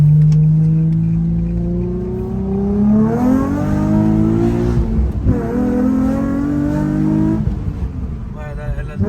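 Car engine revving hard and accelerating up through the gears, loud and close, with rising and falling pitch sweeps and a brief dip between shifts.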